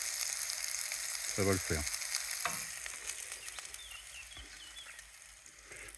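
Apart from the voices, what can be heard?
vegetables sautéing: carrots, fresh onions, garlic, pumpkin seeds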